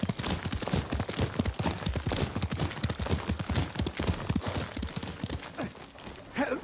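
Sora the horse gallops in the Ghost of Tsushima video game, with loud, steady hoofbeats in a quick, continuous rhythm close by throughout.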